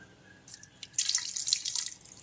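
Water poured into a wet grinder while making idli and dosa batter, a light trickle and dripping that swells into a steady splashing pour, close and alone with no talk.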